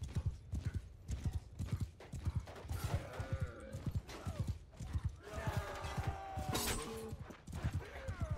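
Horse hooves clip-clop at a gallop in the medieval battle game Mount & Blade II: Bannerlord, a steady loud rhythmic pounding with occasional whinnies and creaking gear over the eight seconds, with a voice briefly heard underneath.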